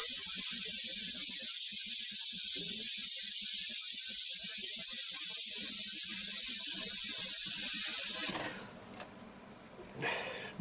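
A VEDA WD 180 dual action airbrush spraying paint gives a steady, close hiss for about eight seconds, then cuts off abruptly, leaving faint room noise and a small clatter.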